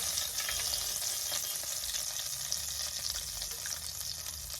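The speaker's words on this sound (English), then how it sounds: "we have a clean pan on fire, and I have some butter. So I'm just gonna add some oil to it." Butter and oil heating in a clean pan on the stove, a steady, close sizzle and crackle holding evenly throughout, with no voices.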